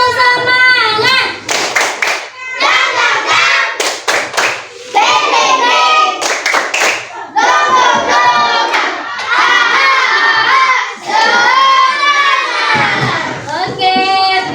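A school class performs a rhythmic spirit clap, sharp patterned bursts of hand claps alternating with children's chanting and shouts, loud and close.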